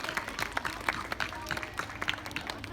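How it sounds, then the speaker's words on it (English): Applause at an elementary school rewards assembly after costumes are recognized: a steady round of clapping from a crowd of children and adults, moderately loud, with faint voices mixed in. "let's give them a round of applause for their creative costumes."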